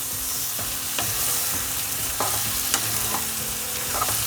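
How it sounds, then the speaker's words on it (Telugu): Mutton pieces sauté in a pan for a mutton curry, a constant close sizzle broken by repeated clinks and scrapes of a stirring spoon every second or so. "ఇప్పుడు మనం మటన్ వేసుకుందాము. బాగా మిక్స్ చేసుకోవాలి."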